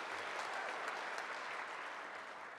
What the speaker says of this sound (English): One more huge round of applause for your president